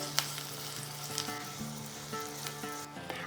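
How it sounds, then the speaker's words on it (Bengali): Whole mustard seeds, chopped green chilli and deseeded dried chilli lightly frying in oil for a vegetarian pointed gourd dish, giving a soft, continuous sizzle with faint crackles and occasional utensil taps, heard close but at low volume. "পুরো জিনিসটা হালকা করে ভেজে নেব।"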